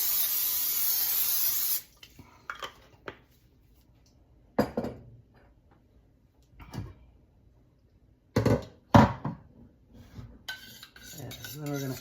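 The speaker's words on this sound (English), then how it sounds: "We're going to spray this dish with" A can of non-stick cooking spray hisses in a sustained burst onto a baking dish for enchiladas, close and loud, followed by clinks and taps of the dish and utensils.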